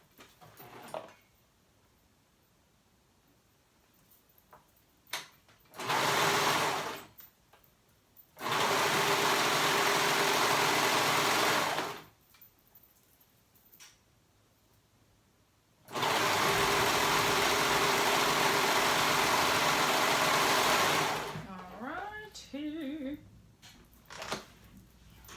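A sewing machine stitches jumper fabric pieces together in several sustained, loud whirring runs, stopping and starting between bursts, with a quiet pause and brief voice near the end.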